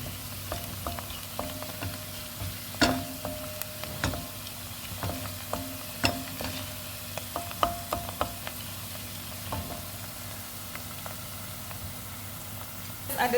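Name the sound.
onions frying in hot olive oil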